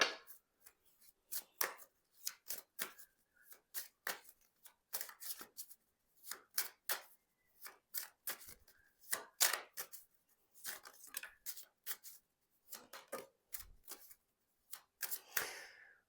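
Tarot cards being handled, shuffled and dealt out onto a surface, producing a long run of crisp, close papery snaps and flicks in irregular bursts with brief pauses, no voices.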